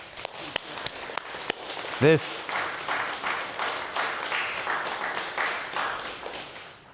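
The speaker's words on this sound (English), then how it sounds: "round of applause for Nikki, everyone" Audience at a live podcast recording applauds for Nikki, a steady broad clapping that rises after a brief voice and continues evenly to the end, with a few sharp claps at the start.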